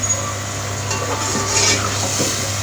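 Tomatoes stirred and fried in a home kitchen pan for a dinner dish, a steady low sizzle with soft scraping stirs, close and continuous with no talk.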